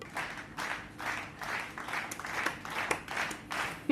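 Several people clapping in a rhythmic beat, roughly two claps a second, faint and slightly distant.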